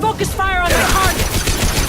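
Squad gunfire focused on a target in Mass Effect 2, a dense close rattle of shots mixed with a voice speaking over it.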